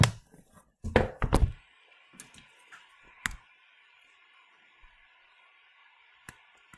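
Calculator buttons pressed in quick bursts of sharp plastic clicks and taps, close up, followed by a few scattered single presses against a quiet background.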